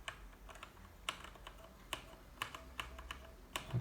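Typing on a GameSir gaming keyboard, with a series of crisp, close key clicks at irregular intervals over a quiet background and no voices.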